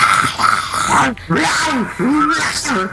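A person vocally imitates a dog-like growl, producing rough, throaty growling bursts in three close, loud phrases with brief gaps between them.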